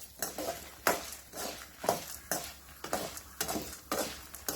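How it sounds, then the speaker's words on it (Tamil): Urad dal and cumin roast in a pan, stirred with a rhythmic series of roughly ten scraping strokes that repeat about every half second, fairly close and quiet. "இது நல்லா பொன்னிறமாக வர்ற வரைக்கும் வறுக்கணும்."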